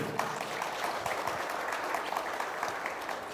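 Members at a construction association's regional general meeting give a round of applause, a continuous, moderately distant patter of many hands clapping without pause.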